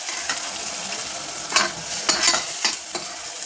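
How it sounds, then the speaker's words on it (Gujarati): Turmeric, coriander-cumin and chili powder are stirred in a frying pan, giving a constant sizzle with a few sharp spoon scrapes near the end. "હવે આપણે એડ કરીશું હળદર, એડ કરીશું ધાણા જીરું, એડ કરીશું મરચું પાવડર। હવે આપણે એને સરખી રીતે મિક્સ કરી લઈશું।"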